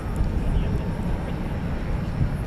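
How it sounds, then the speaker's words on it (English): A ten-year-old four-engine Boeing 747-8 cargo jet arriving at DFW Airport at night, a steady broad low roar of engines that holds even and fairly loud throughout. "I heard the distinctive sound of 4 engines."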